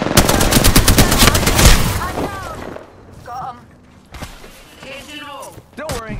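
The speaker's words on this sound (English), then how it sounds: "Getting shot at." Rapid automatic gunfire in the battle royale game Apex Legends, a loud, dense burst for about two seconds, followed by quieter in-game effects and short electronic chirps.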